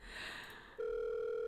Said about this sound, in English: The phone rings for a good minute before someone answers.